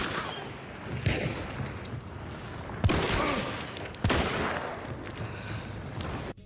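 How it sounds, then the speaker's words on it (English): Loud gunfire in the video game Hunt: Showdown: two distinct sharp shots about a second apart, set in a dense, noisy game soundscape. "So 2 shots with a decent amount between."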